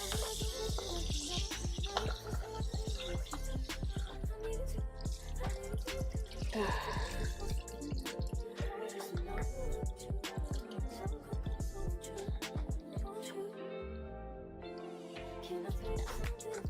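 Fish being washed under a running kitchen tap at a sink: continuous splashing, dripping water close by, with brief talk over it.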